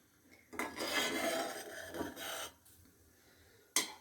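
Almond paste stirred into hot milk in a pan for rasamalai: soft, close scraping and rubbing of a spoon against the pan in a couple of short strokes, followed by quiet and then one sharp scrape.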